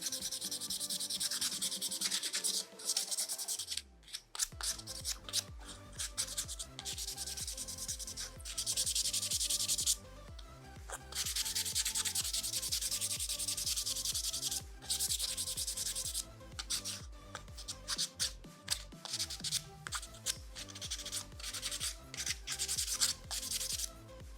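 Rough faces of cypress wood flower pot pieces sanded by hand, a steady dense rasping scrub that runs continuously at close range with brief pauses between strokes, no talking.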